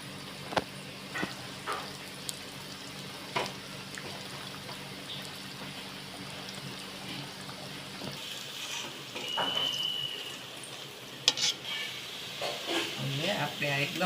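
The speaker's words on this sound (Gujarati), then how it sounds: "આ બધા જ ગોળા આપણે આ રીતે તળી લઈશું." Cutlet balls coated in sev deep-fry in a pan of oil with a continuous close hiss and bubbling. Scattered clinks of a utensil and brief handling sounds rise over the frying toward the end.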